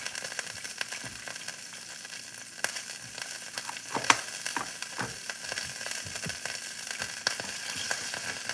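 A grilled cheese sandwich fries in hot butter, giving a steady crackling sizzle with scattered sharp pops and spits throughout, close and moderately loud, with no voices.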